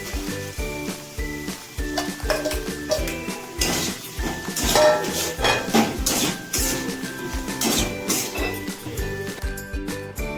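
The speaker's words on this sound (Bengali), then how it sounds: "ভেজে রাখা আলুগুলো আমি দিয়ে দিচ্ছি" Fried potatoes tipped into a pan of ghugni masala, with metal clanks, scrapes and clinks of stirring in an irregular rhythm over soft background music.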